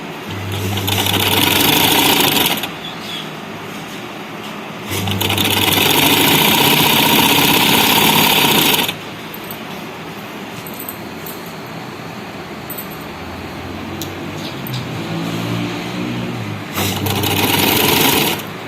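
Sewing machine running single-line stitching on fabric, loud and steady in two long bursts with a quieter stretch between and a short final run, no talking.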